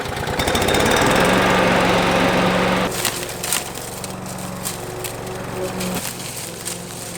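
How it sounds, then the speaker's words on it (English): A rotary lawn mower on its lowest setting runs over a lawn, picking up aeration cores. Its engine drones loud and gritty with rattling debris, then the pitch drops and the sound turns into a lighter clattering run with knocks. "let's put this mower onto this lowest setting and see if it picks up these cores"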